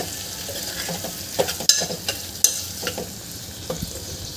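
Ivy gourd pieces stirred and fried in a pan for tondli rice, a steady sizzle under several sharp spatula taps and scrapes against the pan, close and moderately loud with no talking.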